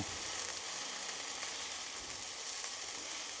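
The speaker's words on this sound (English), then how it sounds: "So I've now got the onions just getting fried in the pan a little bit." Onions fry in a pan with an even, continuous, faint sizzling hiss that holds steady from start to finish, with no talking.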